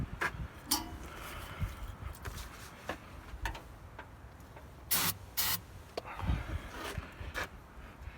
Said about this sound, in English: Some people just fucking spray it in there like their life depends on it.